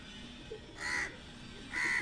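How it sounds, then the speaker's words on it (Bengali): Two harsh caws from a nesting crow at a pigeon farm, one near the middle and one at the end, each short and fairly loud over a steady background hiss. "এই দেখেন কাকটা এরা বাসা করছে এখানে"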